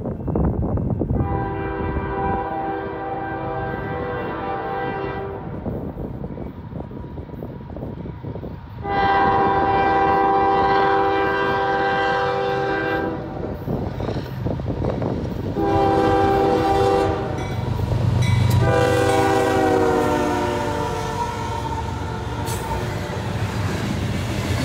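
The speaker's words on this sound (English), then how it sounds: "soon enough came this N750, which is a Newport News bound coal train" A Newport News-bound coal train rumbles past steadily while its horn sounds in several long, loud blasts, the last ones overlapping, over continuous rolling wheel noise.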